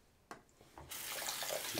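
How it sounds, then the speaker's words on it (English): Water gushes steadily from a bathroom tap into a sink during a straight-razor beard shave, starting abruptly after a few faint clicks and continuing as a loud, broad hiss until the end. "Need some water to get that off."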